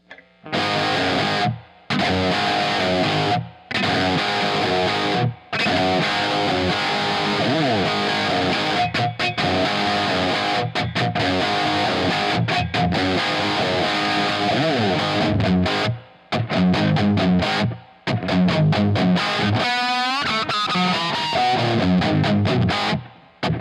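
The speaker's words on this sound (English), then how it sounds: "we'll add in the dry guitar again, and then we'll try to balance the amount of reverb in there" A distorted electric guitar plays a fast, busy solo piece, mixing the dry signal with reverb; loud and dense, with brief silent breaks between passages and no voices.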